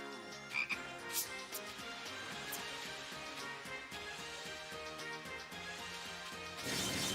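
A frog croaks in the retro action game Youyou Kengeki Musou, a few short croaks sitting within constant chiptune-style game music, with a brighter burst of noise near the end.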